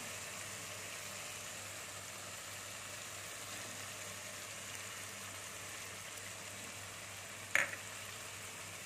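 Masala mixed with ground cashew paste fries steadily in hot oil for a restaurant-style matar paneer, giving a constant close sizzle with one brief clink of a utensil near the end.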